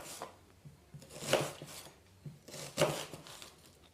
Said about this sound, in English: When you're chopping it like this